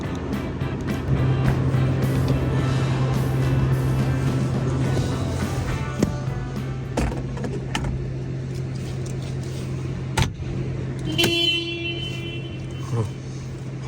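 Honda Civic FD2 Type R started after sitting unused for a long time, its engine running and moving off; a steady low drone, close and moderately loud, with scattered clicks and knocks, fading toward the end.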